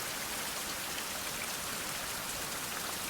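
A brief stretch of steady game rain from Survival: Fountain of Youth, a uniform close hiss of falling drops with no pauses and no voices.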